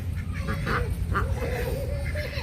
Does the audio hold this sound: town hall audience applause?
no